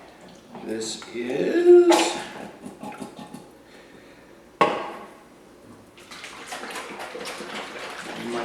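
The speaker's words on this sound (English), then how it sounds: "you always want to make sure you shake this up a lot because the oil and vinegar will separate" An oil and vinegar marinade for steak tips is shaken hard to blend it, giving a rough sloshing rattle that builds toward the end, with someone talking over parts of it.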